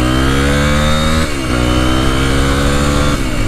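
A Derbi 125cc four-stroke motorcycle engine revs loudly and steadily close by, pitch climbing as it accelerates, with brief dips at gear changes.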